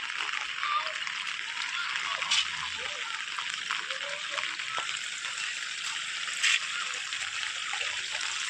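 After heavy village rain, runoff water flows away in a steady hissing rush, with brief splashes and trickles at a moderate distance.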